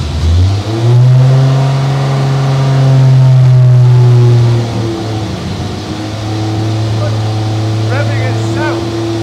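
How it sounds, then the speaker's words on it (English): A V12 Jaguar XJS engine idles high and loud, its steady drone swelling and then easing a little as the revs settle, heard up close. "We have to kind of try and calm down that idle a bit because it's kind of really rearing up and trying to get really loud"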